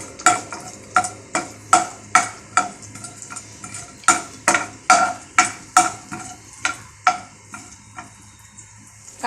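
Two green chillies sautéed in a pan for Marathi moong khichdi, with a spatula striking and scraping the pan in quick, regular strokes over a soft sizzle, loud and close, no voices.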